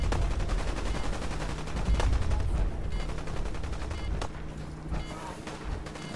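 Security forces trading gunfire with super mutants in Fallout 4, loud sustained bursts of shots with sharp single cracks rising above a rumbling background, a little quieter toward the end.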